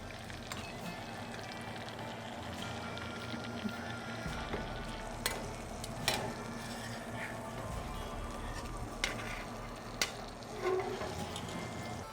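Steak sears in butter in a vintage cast iron pan, a low steady sizzle and crackle under a background hum, with occasional sharp clicks and taps from handling, heard fairly quietly and close.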